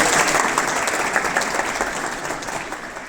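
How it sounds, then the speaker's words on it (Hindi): A hall full of schoolchildren at an intermediate college in Brijghat, Hapur, claps hard and continuously in one dense, loud burst that eases only slightly over three seconds. "एक बार जोरदार तालियां बजाएंगे सारे बच्चे।"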